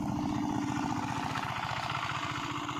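A boat engine drones steadily nearby on the water during river fishing, a continuous low, throbbing hum that stays loud and even throughout with no talk.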